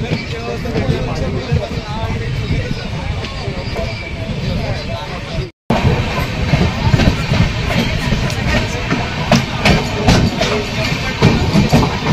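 The Diva–Sawantwadi passenger train rolls steadily between Kankavli and Khed, a loud continuous rumble with rhythmic rail clatter and a brief dropout midway.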